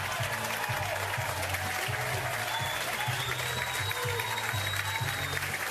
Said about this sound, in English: And listen to the crowd.